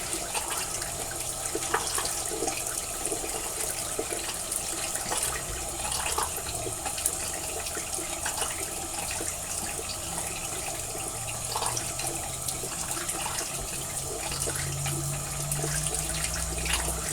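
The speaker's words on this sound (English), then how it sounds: "Actually, probably needs a little bit more water." Water runs steadily from a tap in a continuous, moderate hiss, with occasional small splashes and clinks near at hand, while wetting a shaving soap.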